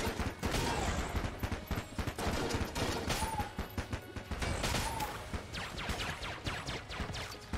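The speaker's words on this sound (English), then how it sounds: "Need better range with this Void shotgun." The Void shotgun fires repeatedly in the roguelike shooter Enter the Gungeon in rapid, crackling bursts with sharp transients packed closely together, steady and moderately loud throughout.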